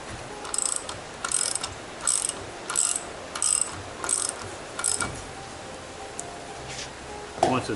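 A ratchet loosening the propeller nut on a Mercury 50 HP outboard, a series of short metallic clicking bursts repeating at a steady pace, close and clear, then a brief sharper knock near the end.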